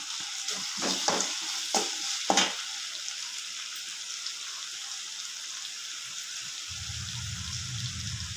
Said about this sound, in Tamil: தக்காளி சேர்த்து நல்லா வதங்கணும் தக்காளி மக்கிற வரைக்கும் கருவேப்பிலை சேர்த்துக்கலாம்